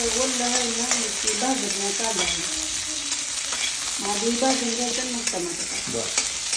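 Ingredients roast in a pan for paneer chilla with an even sizzling hiss. Occasional spatula scrapes cut through it, and faint tonal voices or music drift in and out behind.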